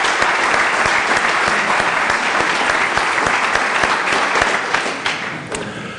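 Dense, steady applause from a large audience at the Chicago Business Hall of Fame 2014 gala, honoring the sponsors; it stays loud and continuous, then tapers slightly near the end.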